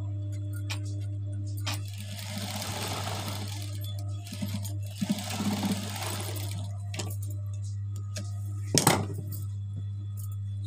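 A sewing machine stitches around the neckline of a garment, running in two sustained bursts with a steady mechanical whir over a constant low hum, then stopping. A few light clicks and handling noises come in between.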